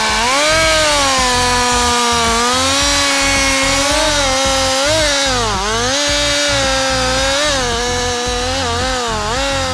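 A sharp chainsaw felling trees in a forest runs loud and close, its engine pitch steady and then sagging and rising as it bites through the wood, with no pauses.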